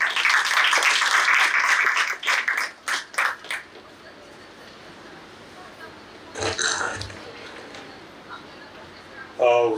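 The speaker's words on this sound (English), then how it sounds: "A big round of applause for Mr." Audience clapping at a college guest lecture, loud dense applause for the first few seconds breaking into scattered claps that fade, followed by quieter room sound and a few isolated noises.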